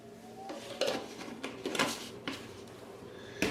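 Starter being mixed into leaven for brioche in a bowl: a series of clinks and scraping knocks from a utensil against the bowl, close by, irregular bursts with short pauses and no talking.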